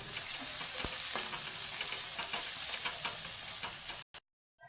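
Onion and spinach with a pinch of turmeric sautéing in a pan, a close steady sizzle with stirring scrapes and a sharp knock, cutting off abruptly near the end.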